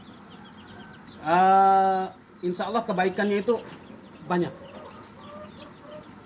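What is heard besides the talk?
chickens clucking on a chicken farm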